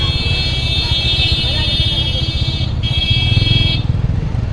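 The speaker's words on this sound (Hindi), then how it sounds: "गाइस ट्रैफिक देख रहे हो" Busy road traffic with cars and motorcycles, loud and close: continuous engine rumble and road roar under a sustained high tonal whine. A voice is faintly present.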